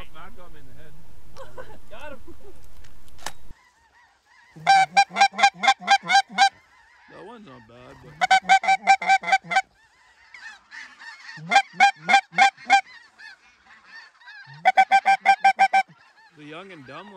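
Loud bursts of rapid goose honking repeat at intervals during a waterfowl hunt in western Manitoba, Canada. A loud shout comes at the start, and softer calls carry on between the bursts.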